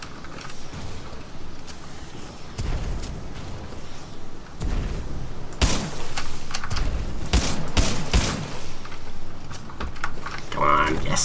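Weapons firing in a Titanfall 2 tutorial, sharp gunshot bursts and heavy booms punctuating a busy game soundscape, growing denser midway, while someone talks over the action.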